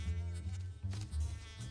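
Bee buzzing in the Ed Edd n Eddy cartoon, a continuous low droning hum with wavering pitch that pulses in short surges, close and moderately loud throughout.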